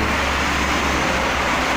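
Traffic on the Jakarta–Cikampek toll road near kilometre 58 in the rain makes a dense, steady roar of passing vehicles, heard from beneath a bridge.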